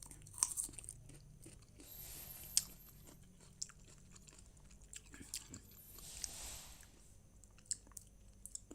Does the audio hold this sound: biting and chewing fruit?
yes